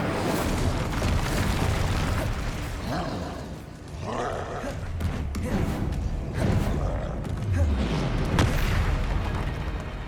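Incendio fire spell cast in Hogwarts Legacy on PS5, a loud, continuous roaring blast of flame and booming impacts that surges and swells over ten seconds, with brief voices under the din.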